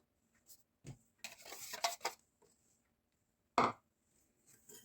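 Egg, sugar, vanilla sugar and starch are mixed for custard, with a few quiet clinks and a short burst of scraping and tapping in a bowl, then one sharp knock, close and sparse.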